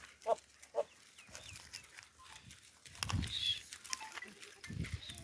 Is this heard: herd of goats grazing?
yes